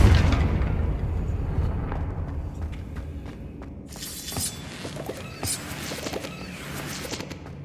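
A Confringo fire spell explodes in Hogwarts Legacy, a heavy booming blast that rumbles and decays, followed by scattered crackling debris and a bright hissing burst.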